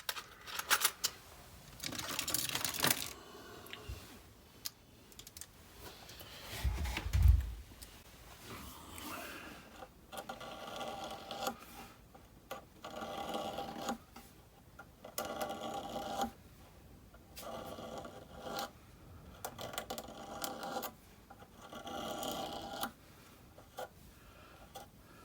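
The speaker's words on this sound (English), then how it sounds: "A little bit of fret scraping on this very dirty guitar." Frets on a very dirty Antoria Edmond archtop guitar are scraped clean in repeated short rasping strokes, close and steady, with brief pauses and a low thump partway through.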